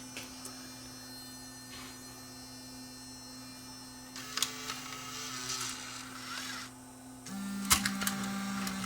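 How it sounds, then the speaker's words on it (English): A Panasonic AG-DV2500 Mini DV deck threads a tape, a mechanical whirring and clicking over a constant low electrical hum, with a brief burst of motor noise and a sharp clunk near the end, no voices. "there goes the tape down into position"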